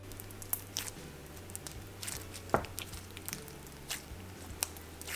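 Stretchy, clicky vanilla-scented slime being squeezed and pulled, giving soft wet squishes and sharp little clicks and pops at irregular intervals, close and fairly quiet with no talking.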